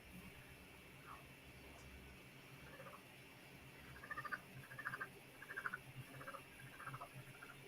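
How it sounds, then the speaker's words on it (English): Frogs chirping outdoors on a warm night, with faint distant calls that pulse in short bursts over a low background hum. "They're chirping? And they're all talking to each other because it's so warm outside."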